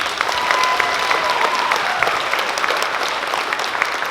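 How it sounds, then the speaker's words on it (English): An audience of parents applauds Patrick before his performance, a sustained wash of many hands clapping at moderate loudness, even and unbroken throughout, with a faint tonal line ringing in the background early on. "Let's give a big round of applause for Patrick."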